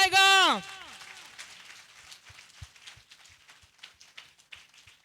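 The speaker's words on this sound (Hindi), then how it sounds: "Can somebody clap to the Holy Spirit?" A church congregation clapping for the Holy Spirit, scattered light hand claps that are faint and somewhat distant, following a brief loud sung or shouted tone from a voice.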